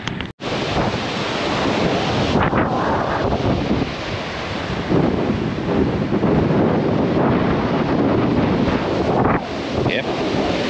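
Strong wind gusts across an exposed coastal clifftop campground, roaring steadily into the microphone with heavy buffeting, and faint surf may lie underneath. The wind stays loud and unbroken nearly the whole time.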